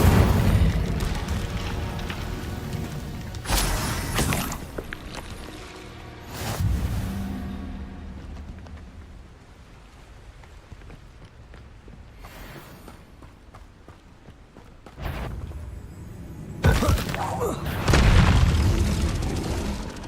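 Incendio fire spells cast in Hogwarts Legacy, several loud whooshing bursts and booms at irregular intervals over game music, with quieter stretches between blasts.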